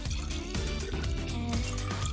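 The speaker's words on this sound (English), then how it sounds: "fill each bottle with a small amount of water" Tap water pours into a skinny bottle in a steady, close gurgling stream that keeps going without a break for about two seconds.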